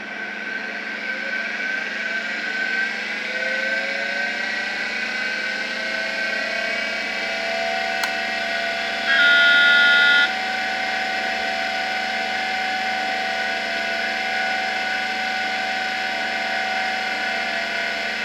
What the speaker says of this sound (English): this hard drive spins up, and it makes this cool spinning up sound